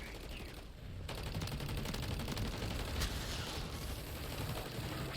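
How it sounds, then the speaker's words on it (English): Rapid sustained automatic gunfire from a level 3 Pack-a-Punch legendary-rarity weapon in Modern Warfare III zombies, a dense unbroken stream of loud close shots running throughout with a brief lull near the start. "I had a level 3 Pack-a-Punch, the legendary rarity gun, and it absolutely shredded him."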